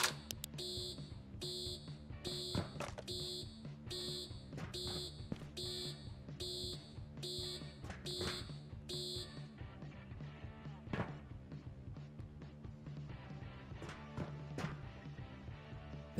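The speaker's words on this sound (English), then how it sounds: "an alarm will sound." A keycard room alarm in a video game sounds as a rapid, repeating electronic beeping in regular bursts over a busy backdrop of game noise and thumps, then the beeps stop partway through.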